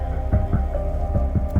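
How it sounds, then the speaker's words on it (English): In the video game Choices, a washer and dryer run with a deep steady mechanical hum and a rhythmic thumping throb repeating roughly every quarter second, close and continuous. "turn on the washer and dryer."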